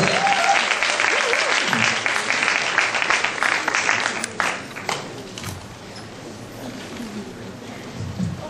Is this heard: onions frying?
no